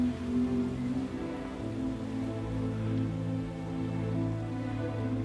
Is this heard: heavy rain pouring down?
yes